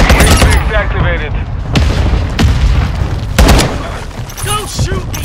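Call of Duty: Modern Warfare II firefight with loud bursts of gunfire and booming explosions close by, overlapping shouted voices throughout.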